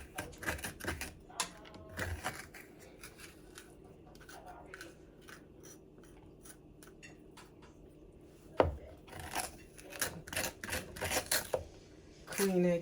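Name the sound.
big spoon scooping seeds out of a butternut squash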